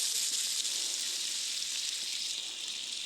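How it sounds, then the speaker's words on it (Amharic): Onions sizzle steadily in hot oil in a home kitchen pan while cooking a Chinese-style dish, giving a dense, even, hissing crackle that stays close and constant throughout, with no talking. "ዘይቴ ሞቅ አድርጌ ሽንኩርት አድርጌበታለሁ። ሽንኩርቴን እጠብሳለሁኝ።"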